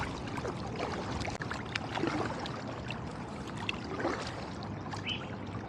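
Kayak paddling on Sherman Creek off the Harlem River in New York City, with soft, irregular water trickles and splashes from the paddle over a steady broadband ambient wash, no voices.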